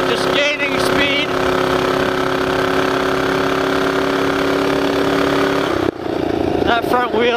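An 11hp mini bike engine with a 30 series CVT held at wide open throttle, a loud steady droning engine note building speed, with wind buffeting and a rider talking over it.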